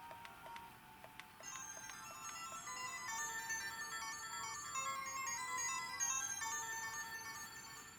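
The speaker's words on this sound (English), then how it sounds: "As you can hear, the sound from the mono speaker is excellent." A handheld game console's small tinny mono speaker plays a bright, chiming electronic melody over a steady low hiss, quiet and thin with no bass.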